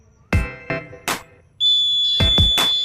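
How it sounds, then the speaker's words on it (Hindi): A homemade rain detector alarm buzzer, set off by water poured onto it, sounds a steady, piercing electronic tone that starts partway through, with a few heavy knocks before and alongside it. "हमारा जो बजर है वो बजना स्टार्ट कर दिया है यहाँ पर"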